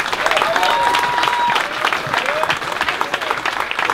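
Lively crowd applause at a platinum record award presentation for a German pop band, with whoops and cheers mixed in and a few whistles over the dense clapping.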